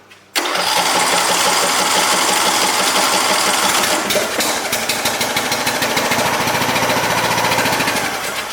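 A John Deere LA115 lawn tractor engine catches after gas is poured into the carburetor, then runs with a loud, steady, rough mechanical chatter close by that persists to the end.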